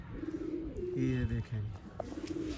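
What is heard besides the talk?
pigeon cooing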